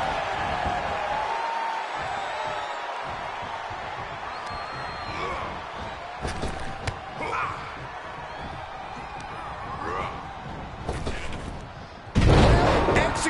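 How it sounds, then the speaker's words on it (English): Wrestling arena crowd roaring during a WWE-style match between two wrestlers, a dense continuous crowd wash with scattered thuds and bangs and a loud swell near the end, under commentator talk. "The sound of this crowd is deafening, and he's asking for more."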